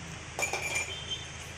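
Glasses clink together in a toast, a quick cluster of bright, close chimes in the first second that fade against a quiet room.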